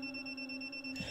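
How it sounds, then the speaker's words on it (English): Steady electronic beeping tone from an unknown device in a Doctor Who fan-made audio drama, a sustained alarm-like pitch running alone and fairly quiet, then a brief low thump near the end. "then what is making that beeping sound?"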